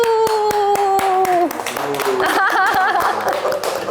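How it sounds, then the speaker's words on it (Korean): Applause and hand clapping in a studio segment for a Korean women's volleyball club, GS Caltex Seoul KIXX, celebrating two players re-signing, with claps running over bright tonal music for several seconds. "박수!"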